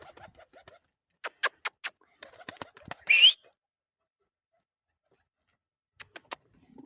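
Soft pigeon calls come in short bursts, with a brief louder coo near the middle and a few faint chirps toward the end, amid quiet pauses.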